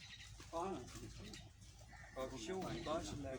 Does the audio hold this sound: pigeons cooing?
yes